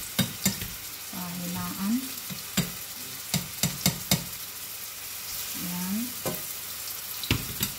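Hot oil sizzles steadily in a frying pan while a utensil clanks and scrapes against it in quick bursts; a person speaks briefly between the stirring sounds.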